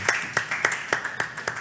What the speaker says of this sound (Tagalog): Ayan, si Kuya Kirk, palakpak natin.